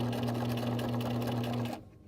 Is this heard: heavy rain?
no